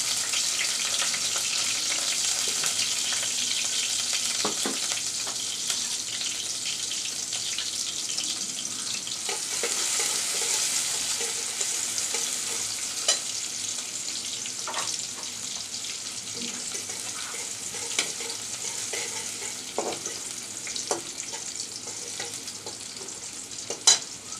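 Chopped garlic and onion frying in oil, cooked for a dish of lentils and helencha greens, with a steady close sizzle broken by occasional scrapes and clicks of stirring that carry on throughout.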